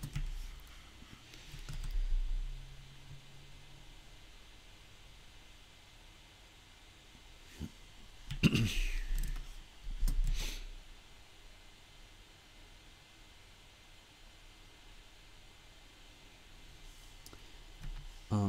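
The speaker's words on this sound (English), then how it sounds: "what the noise is when you hear me clicking" Computer keyboard keys click in short, scattered bursts during a live stream, faint and close against a quiet background hiss, with long pauses between the flurries of typing.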